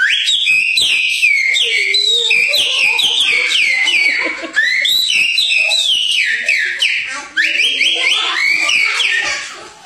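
Someone whistles a rapid run of high, warbling chirps and trills for about ten seconds, mimicking birdsong. A few low vocal sounds are mixed in.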